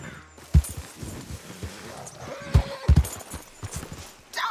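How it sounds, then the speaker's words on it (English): A horse in the Red Dead Redemption 2 game neighs and snorts amid clip-clopping hooves, with sharp thuds and shuffling as the animal acts up, loud and close. "Damn horse acting up on me of all the times"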